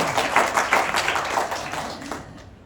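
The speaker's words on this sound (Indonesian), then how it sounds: "Tepuk tangan buat Tuhan." A crowd claps together in a dense burst of applause that fades out over a couple of seconds, at a church service.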